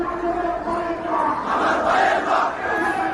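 A large protest crowd shouting and chanting in the streets of Bangladesh, a dense, continuous roar of many voices that swells slightly midway, loud and unbroken.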